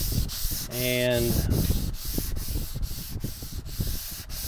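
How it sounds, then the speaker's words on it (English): Close, steady rubbing of 320 grit sandpaper on a sanding block over glazing putty on a 3D-printed R2-D2 dome, with rhythmic back-and-forth strokes; a brief voice and a tonal whine appear near the start. "going back to my 320 grit sandpaper and my sanding block, and we're just gonna start sanding down what we've put on with the glazing so far"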